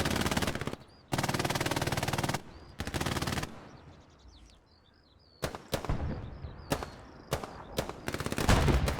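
Close, loud bursts of PPSh submachine gun fire in Hell Let Loose come as several long rapid-fire strings, then a pause with faint distant shots, followed by shorter sharp bursts and single cracks.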